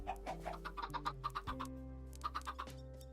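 Chickens cluck in a video game, a quick run of short, bright clucks bunched together, then a pause and a few more, quiet over a low sustained musical drone.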